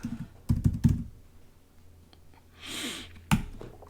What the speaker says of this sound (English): Right now, I'm just going to type in super duper offer.